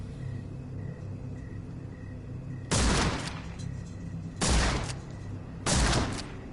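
Three loud gunshot blasts from a gun fired at an alligator in the Sherlock Holmes: The Awakened video game, spaced a second or two apart over a steady low rumble, with no talk.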